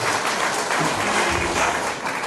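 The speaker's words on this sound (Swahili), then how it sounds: "Naomba mjipongeze kwa makofi makubwa" Large crowd at a CHADEMA political rally applauds, a dense, loud and continuous wash of clapping at even intensity throughout.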